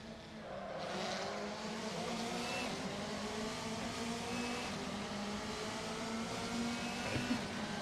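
Several race cars in the Assetto Corsa racing game drone together in a steady, continuous engine roar with shifting pitch as the pack runs closely stacked, with no talking over it.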